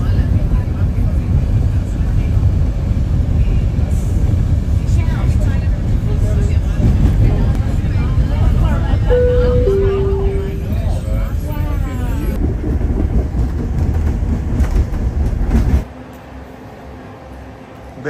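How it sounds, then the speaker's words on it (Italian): Steady, loud rumble inside a train bound for Machu Picchu, with low broadband rolling and engine noise throughout, occasional squeaks and tones, and a voice talking over it, dropping off sharply near the end. "Siamo sul treno."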